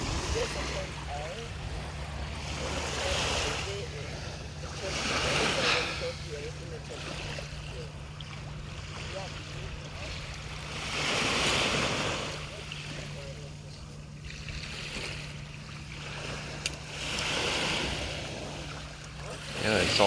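Ocean waves wash ashore on Fort Myers Beach, Florida, after hurricane damage. Broad surges swell and fade roughly every five to six seconds under steady wind noise, with people talking nearby.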